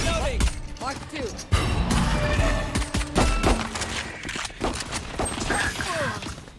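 Gunfire in the tactical shooter VALORANT, with sharp shots and bursts scattered through the stretch alongside in-game callouts and players talking over the action.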